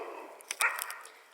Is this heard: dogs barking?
yes